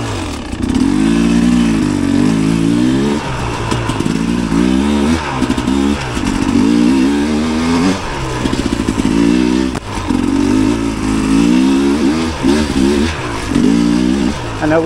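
A fuel-injected two-stroke hard enduro motorcycle engine revs repeatedly up and down, loud and close, with a raspy, wavering pitch in rising and falling bursts.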